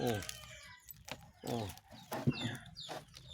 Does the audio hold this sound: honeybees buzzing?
no